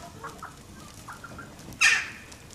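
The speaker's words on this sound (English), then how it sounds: "when you're in the garden doing the barbecue and you have these chickens" Brahma chickens cluck softly in a garden, a few low scattered clucks close by, followed by one louder, sharper squawk near the end.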